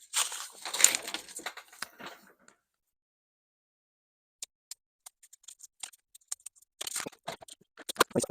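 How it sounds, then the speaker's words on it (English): Scissors snip through a paper pattern for a leather cardholder wallet, with a burst of close crisp cuts at the start, a quiet pause, then scattered sharp snips and clicks toward the end. "I'm just going to have to cut out the pattern like always."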